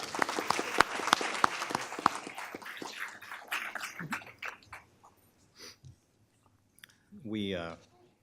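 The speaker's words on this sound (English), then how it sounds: "Applause to you." Applause breaks out at a school board meeting, a burst of clapping from a modest crowd that quickly tapers to a few scattered claps, followed by brief voices talking.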